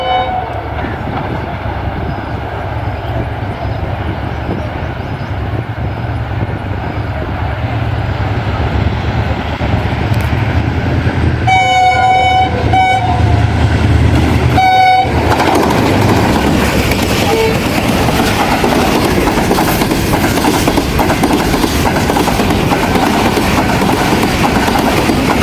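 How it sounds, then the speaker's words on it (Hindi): Pakistan Railways Karachi Express passenger train passing close by, loud and steady, with a deep rumble of rolling wagons, a bright train horn that sounds briefly in the middle and rattling clatter continuing to the end. "15 up Karachi Express."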